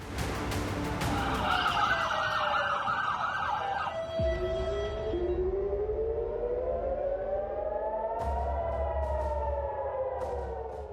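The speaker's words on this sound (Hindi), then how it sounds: "उसको आप इस सायरन से समझ सकते हैं।" A loud wailing air-raid siren in Israel rises and falls steadily, with several overlapping tones sweeping up and down continuously throughout.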